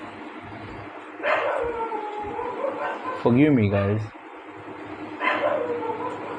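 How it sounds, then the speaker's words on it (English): Dogs bark outdoors in the distance, a few yipping calls rising under and between a man's nearby speech. "The dogs are barking outside."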